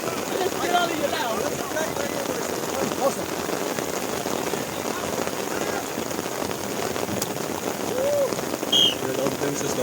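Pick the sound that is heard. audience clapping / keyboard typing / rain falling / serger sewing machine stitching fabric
rain falling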